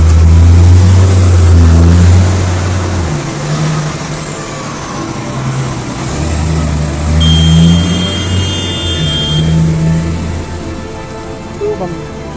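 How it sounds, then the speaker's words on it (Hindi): Large mining truck with huge tyres driving through a coal mine in Singrauli, its deep engine rumbling loud and near, rising and falling over several seconds, with someone talking over it. "माइंस में चलते हैं, छोटे मोटे ट्रक नहीं चलते हैं, ये वाली ट्रक चल"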